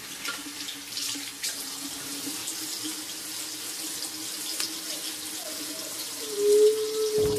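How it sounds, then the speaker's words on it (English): Cold water runs steadily from a tap into a sink, a soft continuous trickle at close range with a brief pitch shift near the end as the flow changes. "Just going to start with a little water."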